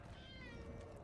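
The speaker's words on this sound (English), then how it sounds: "My cat is here now" A pet cat gives one drawn-out, wavering meow close by but quietly, with no talk over it.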